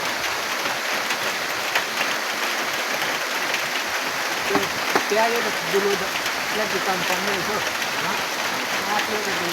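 Steady rain falls in a forest while sekuwa meat roasts outdoors with friends, a dense continuous patter throughout, with voices talking over it in the middle.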